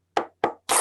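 A classroom of students claps a short rhythmic spirit clap, three sharp, close hand claps in quick succession, the last one slightly longer, with no talking.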